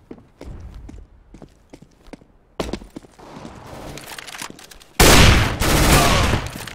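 Fast thuds and clicks of a flashbang being thrown in CS:GO competitive matchmaking, followed by a loud, sustained bright burst near the end, with scattered footsteps and gunfire-like cracks beforehand.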